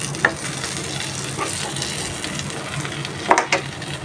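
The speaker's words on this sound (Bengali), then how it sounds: "মাছগুলো এখানে বেজে রাখছি" Hilsa fish frying in a pan with steady close sizzling oil, broken by a few sharp scrapes and clinks of a utensil.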